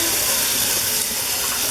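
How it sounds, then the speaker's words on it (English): Hot tap water pours steadily into the bottom of a canner being readied for canning chicken broth, a continuous rushing splash with no pauses. "I'll put about a gallon of water in the bottom."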